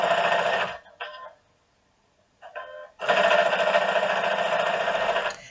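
Sewing machine stitching binding onto a quilt, running in quick buzzing bursts: a long run, two brief spurts after a pause, then another sustained run, with no one talking.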